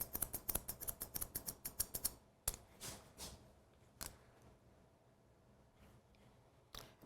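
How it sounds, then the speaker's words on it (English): Texturizing shears point cutting hair give a quick run of sharp, close snips in a steady rhythm, then a few isolated snips spaced out over quieter room tone. "I do this a lot with texturizing shears. And just pull that hair forward and point cut"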